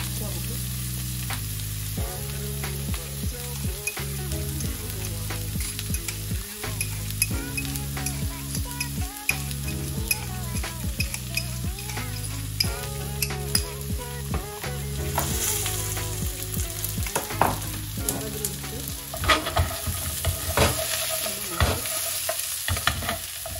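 Chicken and basil ballotines fry in a pan with a steady sizzle that runs throughout, broken by occasional stirring and scraping sounds.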